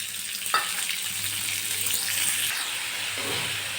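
Toor beans frying in a little leftover oil in a pan, a steady close sizzle with a few sharp clicks of stirring, continuous throughout with no voices.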